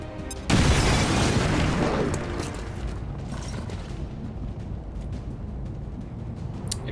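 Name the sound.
grenade explosion in video game XCOM 2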